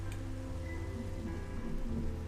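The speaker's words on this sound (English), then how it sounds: "It is raining." Steady rain falls in Minecraft, a continuous close hiss of drops with a low rumbling bed beneath, no voices.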